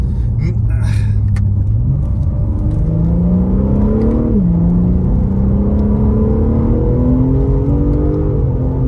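A car accelerates hard with engine revs climbing steadily, dropping at each gear change and rising again, a loud continuous drone close by with some brief high noise near the start.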